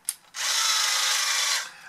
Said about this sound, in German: Also der Akkuschrauber ist der Hammer.